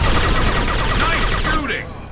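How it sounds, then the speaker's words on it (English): Heavy gunfire in the video game Mass Effect 2 crackles in a loud, rapid burst of overlapping shots close at hand, then cuts off sharply near the end. "Firing a high-impact shot."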